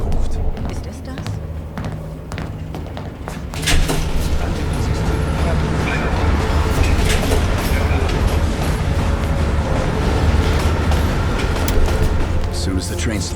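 A moving train rumbles steadily in the Call of Duty Black Ops Cold War video game, a dense, loud roar with rattling and clacking throughout, while voices speak over it.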